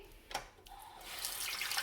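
A kitchen tap running water into a pan with cheesy residue, a faint splash and drips at first, then a steady rising hiss of water filling the pan.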